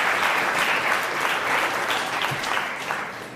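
A small audience of protocol and institutional relations students applauds in a television studio, with steady, dense clapping sustained throughout and slowly tapering near the end.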